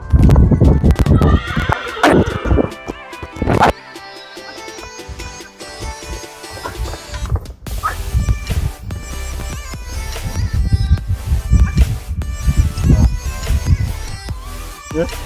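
Two horses, a horse and a mare, each carrying two riders, clip-clop along with steady hoofbeats and occasional neighs and whinnies amid a busy outdoor background.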